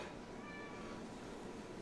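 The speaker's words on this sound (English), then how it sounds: "my cat meowing" A pet cat meows faintly once, in a quiet indoor room with soft steady background hiss and no talking.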